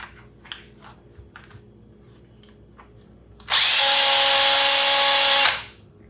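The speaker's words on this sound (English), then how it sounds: "Last step here, just a quick chamfer, deburr." A power tool chamfers and deburrs a .223 brass case in one loud, steady whirring burst lasting about two seconds after a quiet start, then spinning down.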